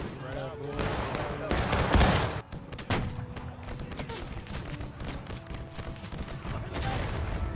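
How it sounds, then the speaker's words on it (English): Civil War rifle fire from the video games War of Rights and Battle Cry of Freedom, with a loud burst of several shots around the middle, thuds and crackling reports over a steady battlefield din, with voices talking beneath. "I think War Rights has the sound a little bit better on the rifle shot than some of the explosions"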